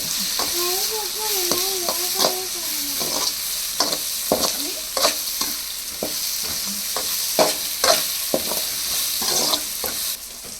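Maggi noodle masala sizzles steadily in a frying pan while a spoon stirs and scrapes it, producing repeated clicking knocks over the constant frying hiss.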